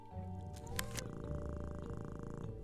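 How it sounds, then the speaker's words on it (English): A cat purrs steadily in the Nancy Drew video game, a low continuous rumble with brief brighter chirps near the start, close and alone without talk. "Kitty purr."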